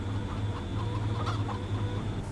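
Chickens cluck on a farm in Farming Simulator 25, with short clucks scattered over a steady low engine drone from a farm vehicle.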